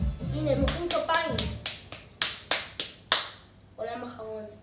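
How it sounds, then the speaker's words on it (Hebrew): Characters in the video game Astro Bot clap in a series of sharp, evenly spaced claps, about nine crisp hits, with a voice talking at the start and again near the end. "הנה, הם מוחאים כפיים."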